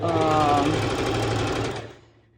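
A sewing machine stitches a lettuce-edge hem on fabric, a loud, close, steady mechanical whir that runs for about two seconds and then winds down to a stop.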